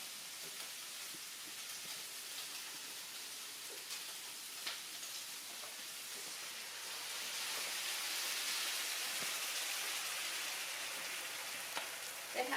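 Water poured into a hot pan of browned food sizzles in a steady, bright hiss that swells midway, with faint clinks and no talk.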